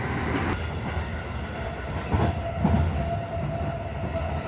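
Train running toward Kyoto heard from inside a carriage: a steady low rumble with rhythmic wheel clatter and a few faint squeals and thumps, no speech.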